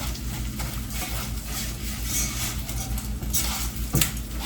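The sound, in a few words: Rice-A-Roni toasting and being stirred in a pan on the stove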